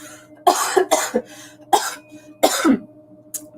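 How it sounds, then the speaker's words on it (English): Several harsh coughs in short bursts, a few quick ones together then a couple more spaced apart, close and alone. "Hold on, I got a cough."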